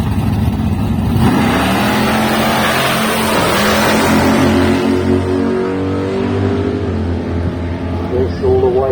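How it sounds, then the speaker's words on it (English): Two drag race cars, including a 1969 Chevy Chevelle with a 307 engine, launch side by side at a green-light drag strip, loud engines roaring and climbing in pitch as they pull away, with an announcer talking over them. "So this is going to be a green light drag race between these two."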